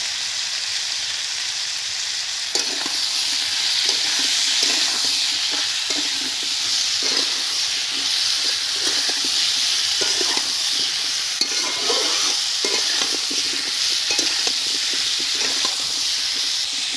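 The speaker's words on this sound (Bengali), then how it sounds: "আলু ওলকপি তুলে দিয়েছি, ভাজা হোক।" Potato and kohlrabi pieces seasoned with turmeric and salt fry in a pan, a steady close sizzle and hiss with intermittent scraping and stirring clatter, no voices.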